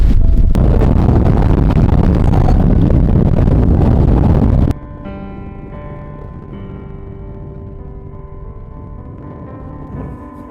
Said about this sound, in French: Il y a tellement de vent, je tiens même plus sur mes pieds.